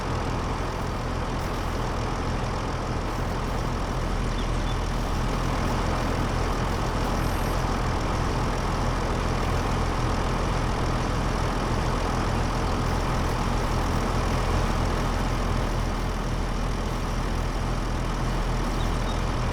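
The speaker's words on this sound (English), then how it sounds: "Keep the tractor running." A tractor engine running steadily in the Farming Simulator 25 video game, a constant low droning rumble that stays even and unbroken throughout with no talk.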